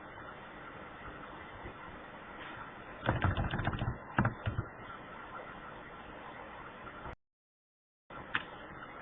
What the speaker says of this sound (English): Hold on, I am just typing in.